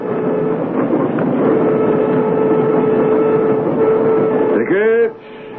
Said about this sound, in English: Why, I knew all about the Orient Express, but a commuter train?